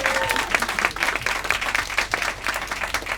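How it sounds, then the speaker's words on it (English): Close, dense clapping from the audience at a roast battle comedy show in Tokyo, sustained and uneven in loudness, with a voice briefly heard at the start. "Fucking give him a round of applause."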